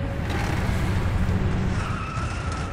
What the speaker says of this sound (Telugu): ఇది ట్రక్ శబ్దమే కదా